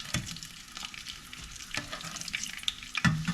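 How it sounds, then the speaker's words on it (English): Garlic pork sautéing over high heat, a continuous close sizzle and crackle broken by repeated scraping and stirring strokes in the pan, with no talking. "Because it's a high heat saute"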